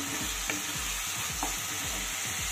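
Tengra fish masala is stirred and sautéed in hot oil in a pan, with a continuous sizzle and repeated scraping strokes of the spoon at a steady rhythm, close up and with no talking.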